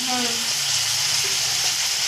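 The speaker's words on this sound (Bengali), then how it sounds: "কাঁচা টমেটোগুলো দিয়ে দিলে তুমি?" Raw tomatoes frying in a pan give a loud, even sizzle up close, with a brief voice at the very start.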